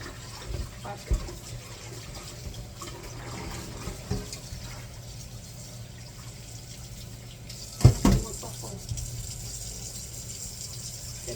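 Hot water poured into a cooking pot while preparing baby back ribs sinigang, a soft, steady trickling stream with a few louder clunks near the end.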